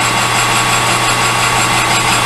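A metal lathe turns down a knurled bolt for a floor jack handle quick nut. The motor hum is steady, loud and close, with an even whine and no talk.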